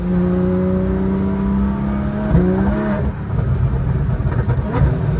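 A 2014 Porsche Cayman's 4.25-litre flat-six engine revs hard, its pitch climbing and then dropping, loud and close, with a rough mechanical growl as it settles back down.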